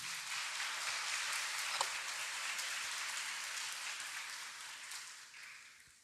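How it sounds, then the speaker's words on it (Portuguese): A parish congregation at an Easter Sunday Catholic mass gives a steady round of applause, a dense even wash of clapping that holds and then slowly fades near the end. "Uma salva de palmas, a mensagem do nosso bispo"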